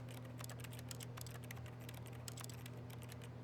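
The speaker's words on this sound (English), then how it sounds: "Why does it always sound like I'm typing on a keyboard, no matter what I look at?" Interact button in the video game The Stanley Parable making keyboard-like typing clicks, a steady run of quick irregular taps over a constant low hum, with no talk.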